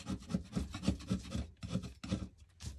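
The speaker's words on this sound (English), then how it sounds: "I'm just going to take my scraper and just kind of scrape off any pieces that are sticking up" Steady scraping and rasping as a hand scraper works rough raised bits off a mason jar, repeated short strokes in an even rhythm, close and moderately loud with a brief pause midway.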